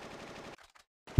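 Rapid machine-gun fire in the video game Final Fantasy VIII, a dense half-second burst, a short gap with faint crackles, then another burst beginning at the end.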